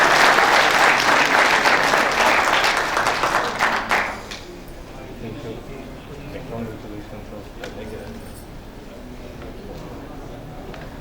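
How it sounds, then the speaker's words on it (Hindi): A crowd at an award ceremony applauds honoured medical agencies, loud dense clapping for about four seconds before it drops off sharply, leaving a quieter room with a voice talking. "तालियां उनके लिए भी जोरदार होना चाहिए।"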